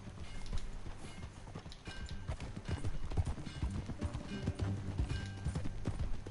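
Steady clip-clop of horse hooves at a trotting pace in the video game Red Dead Redemption 2, fairly close, with faint creaks and mechanical clatter mixed in.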